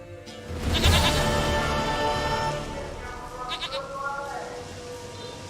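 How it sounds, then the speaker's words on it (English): A goat in The Witcher 3 video game gives a loud, wavering bleat near the start, its cry trailing off over background game sound. "Goat of mine, dearest, sweetest goat."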